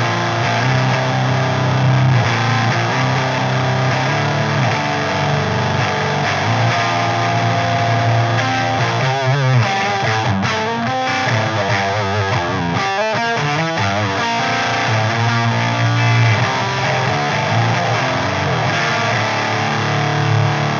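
An electric guitar plays through a JPTR FX Death Saw distortion pedal into a Laney amp, giving loud, heavily saturated chords and riffs that sustain continuously, with a dense, buzzing tone and no talking.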